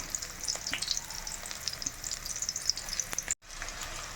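Chopped onion and green chilies fry in a pan of hot oil for fried rice, making a steady close sizzle with light spitting crackles and a few stirring clinks, without talk.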